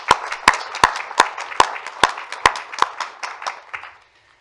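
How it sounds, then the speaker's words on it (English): A small audience at a city council meeting claps in a slow, evenly spaced rhythm, each clap sharp and distinct, fading out after about four seconds. "please join me in giving a round of applause for his outstanding work"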